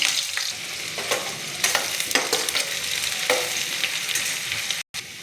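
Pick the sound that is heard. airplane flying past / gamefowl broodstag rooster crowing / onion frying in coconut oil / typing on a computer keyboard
onion frying in coconut oil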